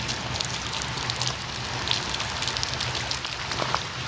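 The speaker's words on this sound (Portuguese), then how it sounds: "Esse vídeo mostra como fica o bairro durante as chuvas." Rain pours steadily over a neighborhood in Itumbiara, a dense continuous hiss with scattered louder drops and splashes throughout, close and even in level, with no one speaking.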